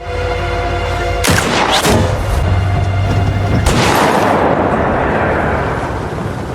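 Gunshots fired from a distance in a film, loud broadband cracks: two come close together early, a third follows a couple of seconds later, and each leaves a booming, rumbling tail.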